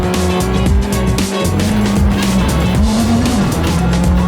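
A turbocharged 1.6-litre petrol race car of about 300 horsepower drives hard, its engine note rising and falling through gear changes while the tires squeal and skid steadily. The sound is close, loud and continuous, with no talking.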